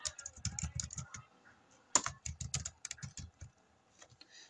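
Typing on a computer keyboard, quick bursts of light clicking keystrokes in an irregular rhythm, close and fairly quiet with short pauses between runs.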